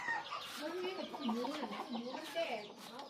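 Several chickens clucking close by at a rural home in Thailand, a series of short rising and falling clucks in quick succession, with a voice talking quietly underneath.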